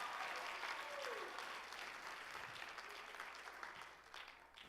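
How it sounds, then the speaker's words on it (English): A crowd at a teen talent show applauds in a quiet, steady wash of clapping that holds for several seconds and gradually thins. "Give them a round of applause."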